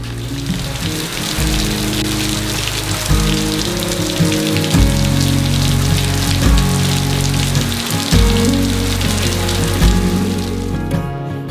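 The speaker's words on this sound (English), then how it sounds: "It's raining so heavily outside" Heavy rain pours steadily and loudly, a dense continuous hiss with spattering drops throughout, no voices.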